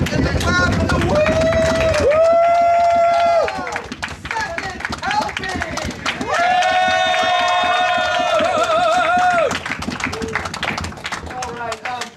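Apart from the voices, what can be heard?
audience stomping, clapping and cheering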